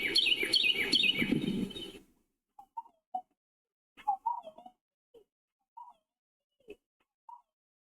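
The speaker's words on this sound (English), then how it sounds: "we got a Carolina wren with a very unique sound" Carolina wren song: a loud, rolling run of rapid repeated chirps for the first two seconds, followed by scattered single short tweets and call notes from nearby birds against a quiet background.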